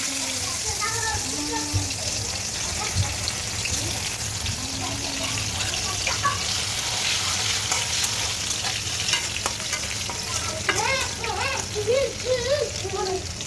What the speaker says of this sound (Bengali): এখন সরিষার তেলে দুটো মরিচ দিয়ে দিব আর কিছু রসুন আমি থেতলে রেখেছি সেগুলো ছেড়ে দিব